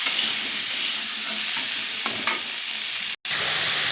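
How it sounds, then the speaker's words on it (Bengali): Cauliflower seasoned with salt and turmeric fries covered in a pan, giving a continuous loud, hissing sizzle with a few faint stirring clicks and one brief cut near the end. "ফুলকপিটা দিয়ে লবণ হলুদ দিয়ে নিয়েছি, এবারে ঢাকা দিয়ে ভেজে নেব"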